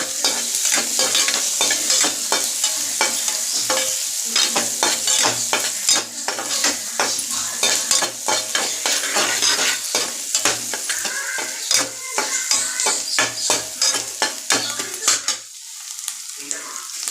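Wild greens sautéing and being stirred in a hot pan, with a steady loud sizzle and frequent scraping strokes of a spatula against the metal that continue for about fifteen seconds before suddenly stopping.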